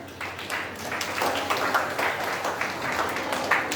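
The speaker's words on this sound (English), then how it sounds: "Please clap for them." An audience claps for students called up on stage at a school storytelling competition: a continuous, moderately loud patter of many hands with no clear break.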